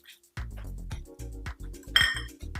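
A spoon clinks against a pot while ground roasted peanuts and coriander are stirred into a dry dal and onion vegetable dish, with bright metallic taps over low knocking stirs, close by.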